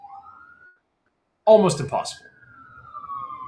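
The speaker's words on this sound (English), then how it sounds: "There's sirens going by." Sirens of emergency vehicles pass by outside, a long steady wailing tone that fades in and out, partly under a voice.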